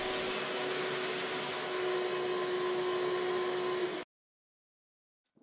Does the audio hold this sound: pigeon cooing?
no